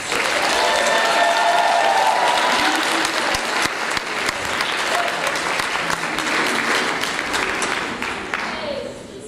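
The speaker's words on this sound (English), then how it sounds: "Let's have a round of applause for our seniors." A large crowd applauds steadily and loudly throughout at a school theatre awards night, dense clapping with no pauses, tapering slightly near the end.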